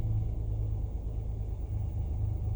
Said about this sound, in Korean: 한번 시동을 걸어서 잘 되는지 확인을 해보겠습니다